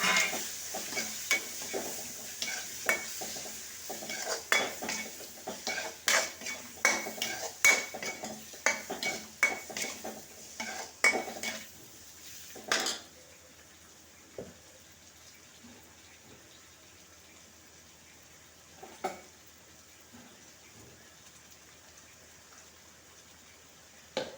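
A spoon scrapes and clinks against a pan while chopped tomato with turmeric sautés, with rapid stirring clatter over a soft sizzle for about thirteen seconds, then a quieter simmer broken by an occasional knock.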